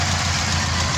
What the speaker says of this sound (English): the Opel is now idling